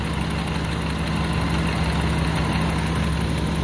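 An E28 car engine idles steadily with a low, even rumble and constant vibration, no talking.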